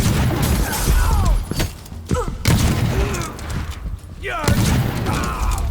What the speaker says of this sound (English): Was that a gunshot?